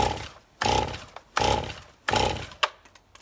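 A Stihl MS290 or MS271 chainsaw is cold-started outdoors: four rhythmic, rasping starter-cord pulls about a second apart, each a short loud burst with quiet gaps between, the engine not yet catching.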